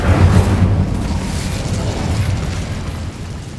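Incendio fire spell cast in Hogwarts Legacy, a loud whooshing burst of flame that booms at the start and then rumbles and crackles steadily before tapering off, with no voices.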